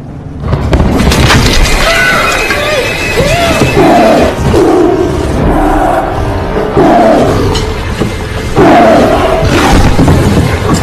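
A tiger roars loudly and close, in repeated deep drawn-out bellows with short pauses between them, filling the whole stretch with no speech over it.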